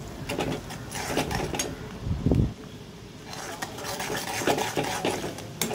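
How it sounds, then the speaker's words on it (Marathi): A spoon stirs onion and spices in a pan for a Marathi moth-bean dal and onion dish, giving steady scraping and clinking strokes with one louder knock partway through, fairly close and without speech. "चमच्याने मिक्स करत व्यवस्थित असं कांदा आणि मसाले सर्व एकत्रित करून व्यवस्थित असं परतून घ्यायचं आहे।"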